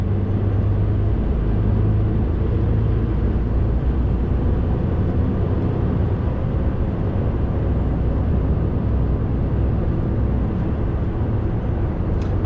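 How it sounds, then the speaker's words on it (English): Deep, steady roar of a V8 Scania truck engine running continuously under load, a dense low rumble with broadband road noise, loud and close throughout with no talking. "I thought it was a V8 Scania as well. You can hear the roar."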